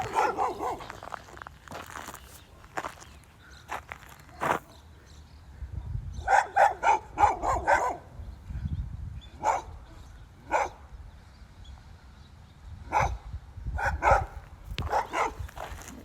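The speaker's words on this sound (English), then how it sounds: "look at this dog, man." Outdoors, a dog barks in scattered bursts, some single and some in quick clusters of several barks, with quieter gaps between them.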